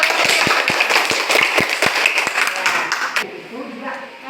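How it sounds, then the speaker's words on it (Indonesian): Students clap in a classroom, a burst of quick, loud, fairly rhythmic claps that fades out at the end, with voices alongside. "Buat tepuk tangan lah buat."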